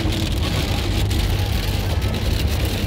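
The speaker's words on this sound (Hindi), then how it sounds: "बहुत ज़्यादा बारिश हो रही है" Heavy rain pours down in a steady, dense hiss on the road to Swat, Pakistan, with a low rumble underneath and no pauses.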